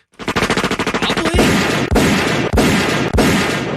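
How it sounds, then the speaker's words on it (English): A rapid burst of automatic gunfire followed by several loud, evenly spaced single shots, close and sharp. "flashbang grenades going off and all kinds of simulated gunfire"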